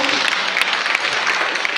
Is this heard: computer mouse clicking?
no